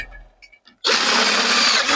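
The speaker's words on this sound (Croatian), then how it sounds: "Izbušio ga." Power drill boring through a part while lacing a direct drive e-bike hub motor with 3.5 mm spokes: after a few faint clicks, a loud, steady high-pitched whine starts abruptly and runs continuously to the end, close by.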